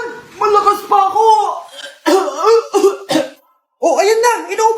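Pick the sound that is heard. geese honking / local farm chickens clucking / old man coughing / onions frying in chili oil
old man coughing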